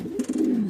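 A single short throaty coo rolls out close and loud from a polvacera pigeon, a Spanish pouter crossed with a homer, its low warbling pulse lasting under a second.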